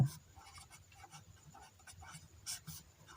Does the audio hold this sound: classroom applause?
no